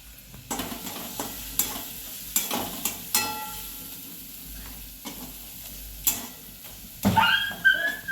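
Vada pav potato masala roasting with turmeric in a pan, a low steady sizzle broken by repeated scraping stirs, with a brief louder clatter near the end.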